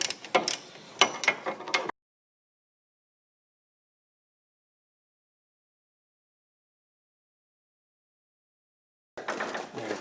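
A ratchet with a 12 mm socket works on a brake line banjo bolt on a Mazda NC Miata, rapid close clicking bursts of the pawl at the start and end, separated by a long silence.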